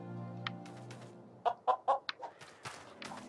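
A chicken in the video game Lego Worlds clucks in a quick burst of four or five short, bright notes over a low steady game hum, followed by fainter scattered clucks.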